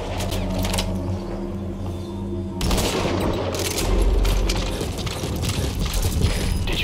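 Gunfire in Metal Gear Solid V starts as sparse cracks over a steady rumble, then turns into dense rapid shooting with booming impacts, loud and continuous to the end.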